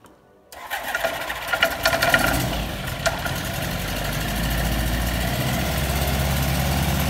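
A microlight aircraft engine starts after a brief silence, sputtering and revving unevenly for a couple of seconds, then settling into a steady, loud idle as it warms up.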